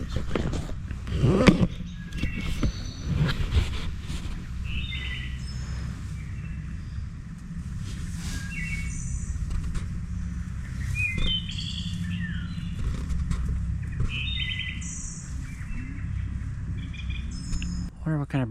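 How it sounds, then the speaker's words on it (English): A bird sings repeated short chirps and phrases at a campsite in central Minnesota, heard at moderate distance over a low rumbling background with occasional nearby noises. "I wonder what kind of bird that is."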